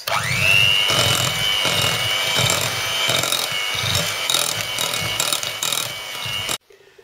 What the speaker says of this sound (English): now I'm going to whisk it until very smooth